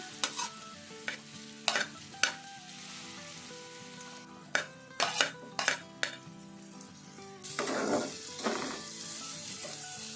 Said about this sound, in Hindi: ऑयल डाल दिया तो ऑयल में ये प्याज डालूंगी मैं